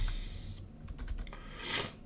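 Quick clacking keystrokes on a computer keyboard while C# code is written, a close, uneven flurry of taps with a brief burst of heavier key presses near the end and no voice.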